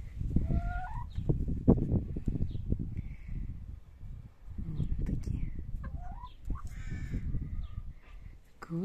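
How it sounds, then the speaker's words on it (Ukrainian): Hens on a village farm clucking and calling in short bursts, near and fairly loud, with other birds chirping faintly in the background. "Курочки."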